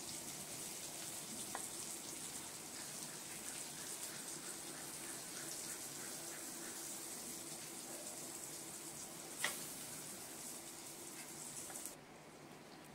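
Pointed gourd pieces frying plainly in oil, without turmeric, give a steady, even sizzling hiss that runs throughout, with a single sharp click partway through and a slight drop in level near the end.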